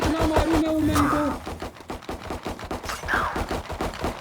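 Rapid bursts of gunfire from the shooter game Valorant ring out loudly in quick succession, with a short tonal effect at the start and a player's faint vocal sounds mixed in.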